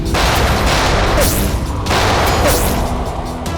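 Loud bursts of gunfire in a TV crime drama set in a haunted mansion amid a jungle, rapid volleys of shots crashing close with brief gaps between, no speech over them.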